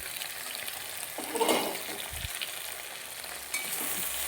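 Mixed vegetables for Bengali shukto sizzle gently in a pan just after the lid comes off, with a soft stir and a light knock partway through.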